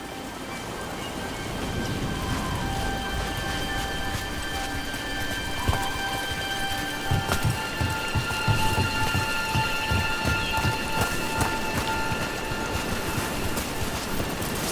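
Steady heavy rain falls throughout a game scene in Dragon Age: The Veilguard, with rumbling thunder and scattered sharper impacts mixed into the constant downpour.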